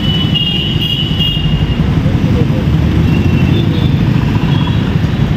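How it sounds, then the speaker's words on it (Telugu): Street traffic on a busy city road makes a dense, steady roar of engines and tyres, close and loud, holding constant without a break. "చూడండి ఈ ట్రాఫిక్, చూపిస్తాను ఎంత సౌండ్ వస్తుందో."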